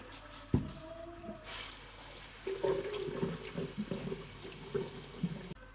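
Potatoes are rinsed under a running tap outdoors, with a sudden gush of water and then steady splashing and trickling close by.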